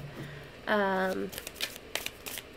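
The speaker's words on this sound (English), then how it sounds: "I'm going to shuffle one more time" A deck of tarot cards being shuffled: a brief voiced sound early on, then a series of quick papery riffles and flicks close by.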